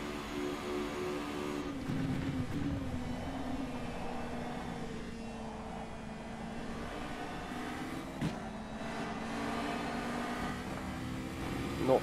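A Formula Renault 3.5 race car engine roars at Spa-Francorchamps in a racing simulator, a steady, droning tone that rises and falls through gear changes at high speed, moderately loud and continuous.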